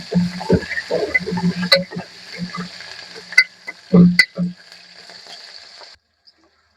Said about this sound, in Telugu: ఆనియన్స్ కూడా కొద్దిగా ఫ్రై అయ్యాయి కదా!